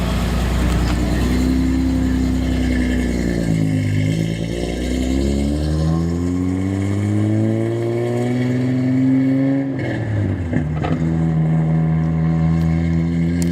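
Datsun 280Z engine idling and pulling away on a test drive, a steady loud drone whose pitch rises and falls as the car accelerates, with a brief dip and surge near the end.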